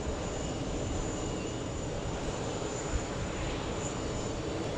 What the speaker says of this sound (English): Craig Russell letting us know we have a 747 flying over.